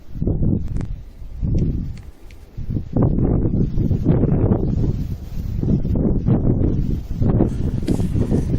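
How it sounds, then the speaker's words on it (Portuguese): Strong wind buffets the microphone on a hilltop at Morro do Sete, a loud, rumbling, uneven rush in gusts with short lulls, steady and close throughout without speech. "Normalmente encontramos este vento por aqui."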